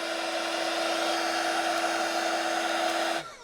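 A small, cheap heat gun blows hot air in a van to lift stickers, a steady close whirring hiss that cuts off abruptly near the end.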